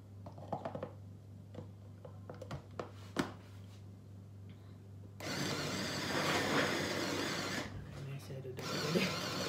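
An electric grinder whirs loudly through the second half while blending ingredients for mojo sauce for roast turkey, after quieter clicks and handling, with talking over it.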